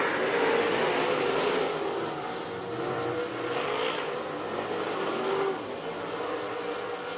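Modified race cars roar steadily around the oval at Big O Speedway, a continuous loud engine drone with rising and falling passes and no voices.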